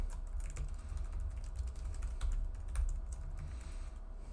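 Rapid clicking keystrokes on a computer keyboard while code is typed, close and continuous with uneven rhythm and no speech.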